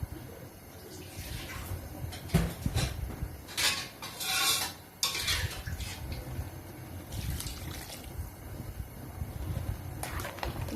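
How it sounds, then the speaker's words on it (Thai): Water splashes into a wok, followed by scraping and clattering as it's stirred around, irregular metallic bursts up close with no talking. "ขอใส่น้ำล้างกระทะนิดนึงนะคะ"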